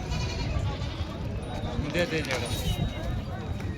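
Goats bleat at a crowded goat market, several calls rising over a dense bustle of livestock and people talking nearby.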